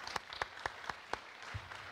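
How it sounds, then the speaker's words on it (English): A handful of scattered, distant hand claps ring out from a tech conference audience, about half a dozen sparse, faint claps with no sustained ovation. "Give a round of applause."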